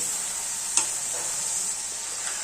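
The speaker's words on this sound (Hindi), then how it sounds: "अब टमाटर को नरम होने तक पका लेंगे" Steady hiss of tomatoes frying in a hot oil tempering for sarson ka saag, with a faint tap near the start; continuous and moderately quiet, no voices.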